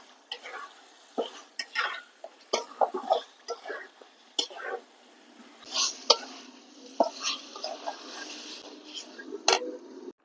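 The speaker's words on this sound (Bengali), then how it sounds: "মাংসটার মশলার লাগে ভালো করে কষাই লমু।" Chicken pieces being stirred and fried with spices in a pan, for a chicken bhuna khichuri: a spatula scrapes and clatters in irregular close bursts over a steady sizzle, with no talk.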